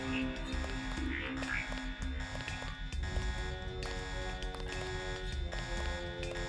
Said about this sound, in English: Did they go all the way down just to sound that alarm?